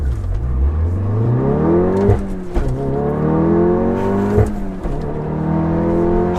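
A Volkswagen Golf R with an APR Stage 2 tune, all-wheel drive and an aftermarket race clutch launches hard, its engine roaring loud and close as it climbs rapidly through revs with brief dips at gear changes.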